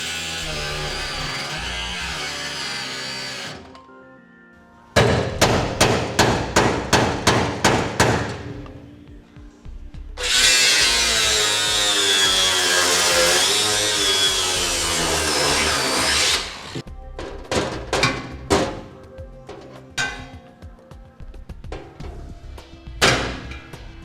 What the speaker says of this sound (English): Using our cutoff wheel, we're going to go ahead and cut the head of the bolt, break it off